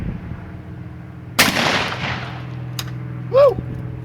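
A 10 gauge shotgun with a full choke fires a 3.5 inch steel BB shell in one loud, close blast that rolls off into a long decaying rumble, followed by a brief excited shout.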